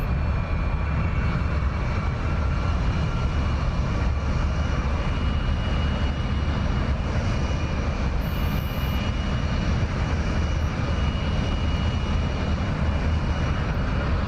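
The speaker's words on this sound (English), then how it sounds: "Alright guys, we're airborne. We are flying the B-2." Steady, loud engine roar of a B-2 Spirit bomber in flight in the DCS flight simulator, a continuous broadband drone that holds level throughout with no voices over it.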